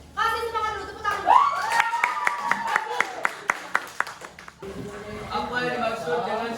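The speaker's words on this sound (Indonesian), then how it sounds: "Kasih semangat dulu, tepuk tangan." Classmates clap for a presenting group in a school classroom, a short burst of sharp, uneven hand claps between talk, with the teacher's voice before and after.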